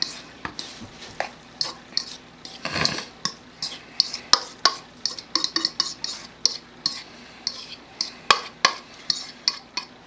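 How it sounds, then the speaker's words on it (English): Cornbread dressing is scooped and scraped into a baking crock, heard as repeated sharp clinks and scrapes of a utensil against the dish with soft wet thuds between them, close and irregular. No voices. "we're going to transfer this into the pan that we're going to bake it in"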